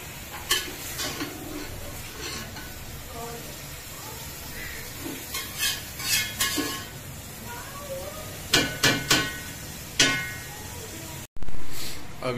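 Chicken with ginger, garlic and onion is stirred in a pot for biryani, a spoon scraping and clinking against the metal in irregular strokes over a steady sizzle, close and fairly loud.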